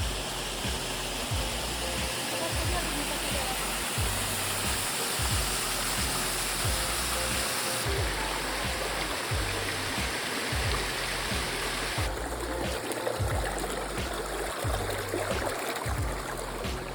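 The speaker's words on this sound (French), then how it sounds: "Il y avait pas mal de petits cours d'eau qui rejoignaient donc la fameuse cascade." Several small streams pour into a well-known waterfall near Gérardmer, giving a steady, dense rush of flowing water that stays even and close throughout, with no voices.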